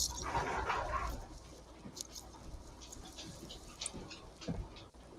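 A dog whimpers faintly indoors in brief soft whines, with light pattering and shuffling around it and no speech.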